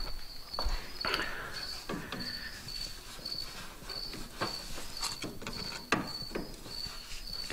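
A pry bar works on a polyurethane body bushing of a GTO, giving scattered metallic clunks and scrapes at close range over a steady chirping background.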